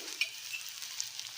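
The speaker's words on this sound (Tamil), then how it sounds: "மாங்காய் வதங்கின்னு இருக்கு" Mango pieces sauté in a pan with a faint, steady sizzle and a few light stirring clicks.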